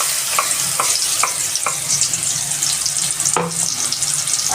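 Onion paste sizzles steadily in hot oil while a spoon stirs it, with a few scraping strokes against the pan, close and continuous.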